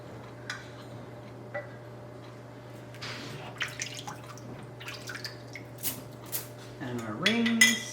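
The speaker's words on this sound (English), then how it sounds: "we can put the lids on now." Metal lids set onto glass jars of homemade dill pickles, a series of light clinks and taps spread across a quiet kitchen, growing busier toward the end with a brief faint voice.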